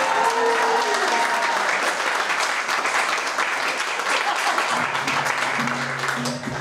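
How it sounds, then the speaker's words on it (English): An audience breaks into sustained, loud applause that fills the room. It thins slightly near the end as a voice starts to come through. "Now you get ready to applaud."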